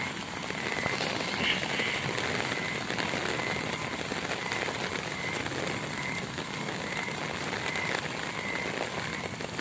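Heavy rain pours steadily in Swabi, a dense, loud, unbroken hiss of drops on surfaces close by, with no pauses across the whole stretch.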